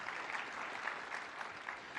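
Audience applause during a 2012 Objective-C programming conference session, a steady wash of many hands clapping for about two seconds, moderately loud and without speech.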